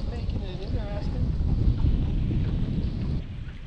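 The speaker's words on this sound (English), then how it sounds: "So the wind is making it interesting." Gusty wind buffets a boat on a lake during spring bass fishing, a loud, rumbling roar that swells and eases across a few seconds, with faint voice-like tones drifting through.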